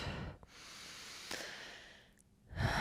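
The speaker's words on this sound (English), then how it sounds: "Come back to that breathing in and out." Slow, deep breaths in and out during a gentle morning stretching routine: a soft hissing exhale and inhale, quiet and close, with short pauses between breaths and no talking.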